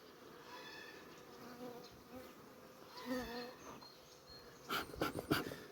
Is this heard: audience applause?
no